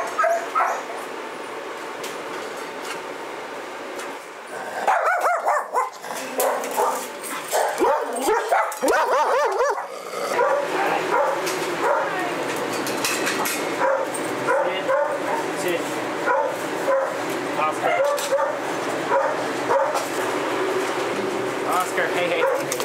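Dogs at a groomer's bark, yip and whimper in short bursts, fairly close, mixed in with people talking and busy room noise.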